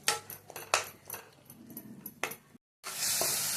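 Egg and brinjal masala with chili powder being stirred in a pan: soft sizzling with intermittent scraping strokes of a spoon, then a brief pause before a louder, steady hiss of frying.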